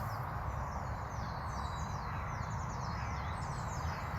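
Faint high chirps and twittering of sparrows, with a crow in the background, over a steady low drone of distant traffic, on a trail in Northumberland.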